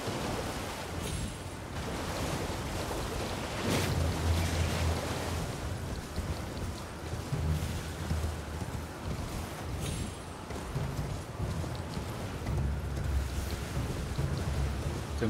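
Strong wind roars through the Limgrave area of the video game Elden Ring, a dense, steady broadband rush with gusts swelling and easing across the whole stretch.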